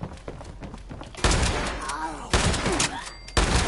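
A shotgun firing in the video game Fallout 76, with three loud, sharp blasts spaced about a second apart, each followed by a brief rumbling tail.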